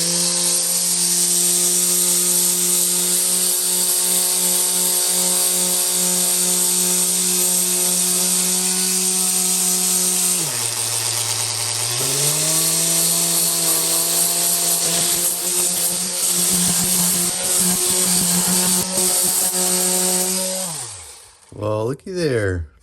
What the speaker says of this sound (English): Okay, I've got my orbital sander here, 100 grit sandpaper.